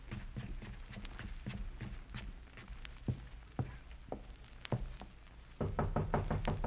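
Knocks on a door in an old radio drama, with irregular sharp raps spread through the scene, then a faster, louder burst of knocking near the end.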